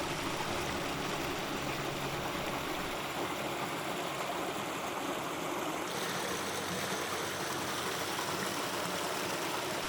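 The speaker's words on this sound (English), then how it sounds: "a perfect place to pause and take in the sound of rushing water" Rushing water of a brook beside a stony bank on a wooded preserve trail, a constant close-up broadband rush and burble with no letup.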